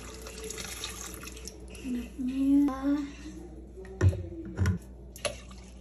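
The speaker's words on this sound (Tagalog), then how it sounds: "Lagyan natin siya ng coconut milk." Coconut milk is poured into washed glutinous rice for puto maya, a close liquid splashing and gurgling stream with a couple of soft clunks near the end.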